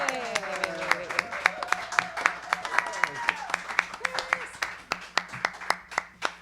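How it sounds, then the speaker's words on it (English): Small live-music audience at the end of a session, with applause building to a dense patter, then thinning to a few scattered claps, while a voice talks over the first half. "Another round of applause for Maeve and Mark."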